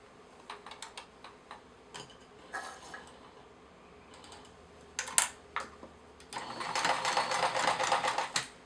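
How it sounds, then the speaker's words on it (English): A home sewing machine top-stitches the fabric edge of a shark, dino or dragon face mask with a nose-wire pocket, giving bursts of fast mechanical clatter that swell into a louder continuous run near the end. "So now I'm going to top stitch this side down."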